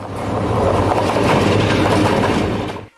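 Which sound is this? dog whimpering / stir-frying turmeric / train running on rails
train running on rails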